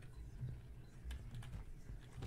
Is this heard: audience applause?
no